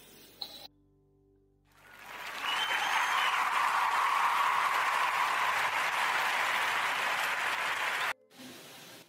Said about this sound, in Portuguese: Quer pedir a toda a gente uma salva de palmas